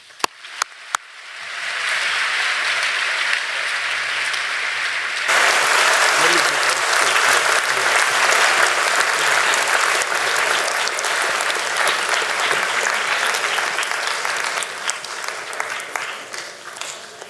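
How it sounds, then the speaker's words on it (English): An auditorium audience breaks into warm applause to welcome a speaker, a few sharp claps at first, then a sustained loud wave of clapping that swells midway and slowly thins toward the end. "Please join me in giving a warm welcome to Eva Schloss."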